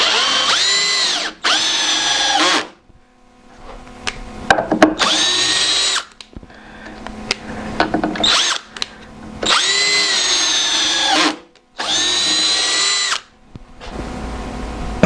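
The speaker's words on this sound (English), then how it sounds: "Let's see how this thing does as a screw gun." A Bauer 20-volt hammer drill in screw mode at its highest torque setting drives a screw in several whining bursts separated by short pauses, with ratcheting clicks between runs, close and loud.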